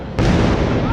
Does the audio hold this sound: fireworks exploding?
yes